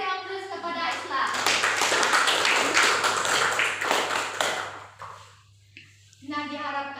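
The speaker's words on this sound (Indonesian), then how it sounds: "Silakan beri aplaus kepada Islah" Classroom applause for a student: a burst of clapping hands, several pupils clapping together for a few seconds before fading, with a teacher's voice speaking before and after.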